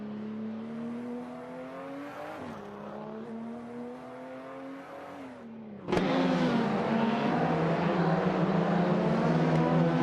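Video game race cars surge off the start line, engines droning and revving in close unison, then a sudden louder burst as the pack accelerates hard and stays at a steady roar.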